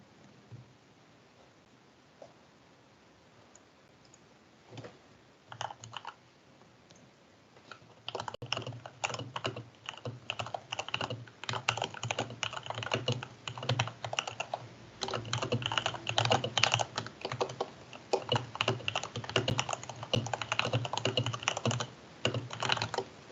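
Rapid, continuous clicking of keys on a computer keyboard during a student government meeting, sparse at first, then dense and steady, close and moderately loud with no talking.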